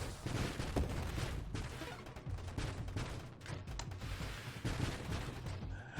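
Rapid turret gunfire in the space shooter Nova Drift, dense bursts of crackling shots and small explosions rattling almost nonstop, loud and busy throughout.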